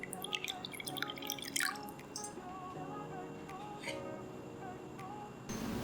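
Water trickles and drips steadily into a bowl while a stir-fry sauce for fish fillet is mixed, close and moderately quiet with light splashing.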